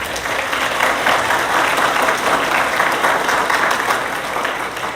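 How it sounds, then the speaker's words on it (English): A school audience gives sustained applause at a spring band concert, dense steady clapping from a full room lasting several seconds. "Give your parents a round of applause."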